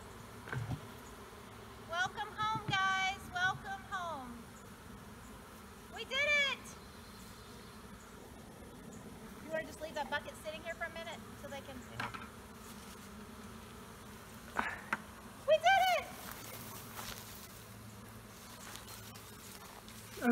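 A swarm of bees buzzes during capture, a low constant hum underneath with intermittent nearer passes; people talk in bursts throughout.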